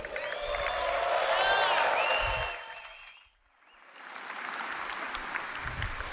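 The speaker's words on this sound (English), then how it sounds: "Another round of applause for Andre" Applause and crowd noise fill the first few seconds, fade almost to silence, then a second wave of clapping swells back up and continues.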